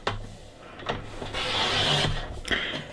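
Paper for a handmade daily journal trimmed to 8 1/2 inches with a cutting tool, giving a close, continuous rasping scrape with a few sharper strokes, no talking.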